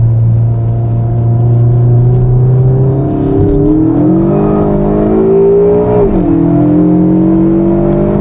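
An Alfa Romeo Giulietta 1750 Quadrifoglio Verde engine revs hard and climbs steadily in pitch as it accelerates, loud and close, with a brief dip like a gear change.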